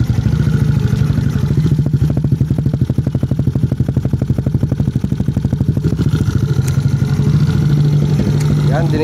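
A 2019 Yamaha Aerox V1 scooter with about 20,000 km on the odometer runs steadily at close range, its engine and exhaust giving a rapid, even pulsing throb throughout, with voices talking over it.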